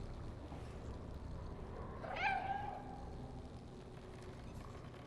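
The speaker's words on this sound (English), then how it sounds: "The cat hasn't done any sound that doesn't sound to me like a cat so far." A cat in the Stray video game gives a single clear meow, rising then falling, over a low, quiet ambient wash.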